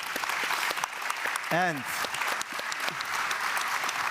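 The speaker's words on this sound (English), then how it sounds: "This is your applause." Conference audience applauding at the close of day one of the BGD 2025 event in Berlin, a sustained steady clatter of many hands throughout, with a brief spoken word and a short vocal sound rising above it.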